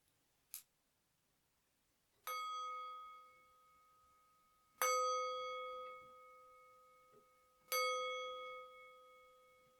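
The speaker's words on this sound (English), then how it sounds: "you're just going to hear the little rings of the singing bowl to signify the end of the" Three clear rings of a singing bowl closing a gentle yoga class, each a bright struck tone with a long, slowly fading sustain, spaced a few seconds apart after a short faint tap at the start.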